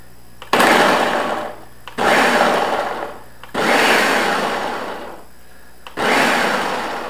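A countertop blender pulses pasta sauce ingredients in four loud whirring bursts, each roughly a second or more long and separated by short pauses, close and without talk.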